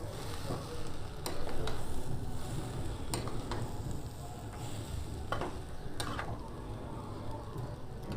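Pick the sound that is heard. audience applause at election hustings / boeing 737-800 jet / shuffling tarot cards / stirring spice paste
stirring spice paste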